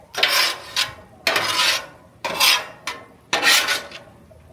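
Bacon and cheese tortellini mixture tossed with a spatula on a Charbroil griddle, four bursts of scraping and rasping metal strokes with short pauses between, close and fairly loud, no talking.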